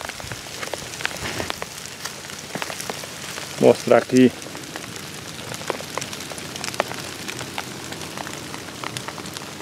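The first rain of the season falls in the dry sertão, light drops pattering steadily on surfaces nearby, with a voice speaking briefly midway.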